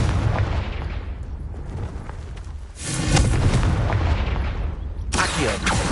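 Confringo fire-blast spells exploding in the video game Hogwarts Legacy, heavy booming blasts with rumbling tails, a loud burst near the middle and another toward the end over continuous game noise.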